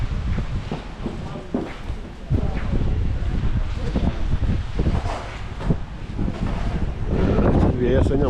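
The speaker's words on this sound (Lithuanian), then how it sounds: "Vėjas nemažas." Strong wind buffets the microphone in a continuous rough roar at a rainy Saturday outdoor market, with faint rustling and indistinct sounds beneath.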